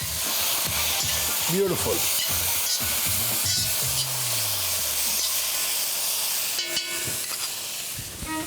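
Marinated prawns fry with softened onions in a hot pan, a steady loud sizzle and hiss with stirring scrapes throughout; a voice speaks briefly.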